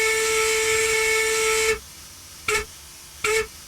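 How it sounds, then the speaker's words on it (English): The looped steam whistle of an NS8800 Austerity 0-6-0 tank locomotive in Train Simulator Classic gives one long, loud, steady shriek, then two short blasts after brief pauses. "we've got a looped whistle."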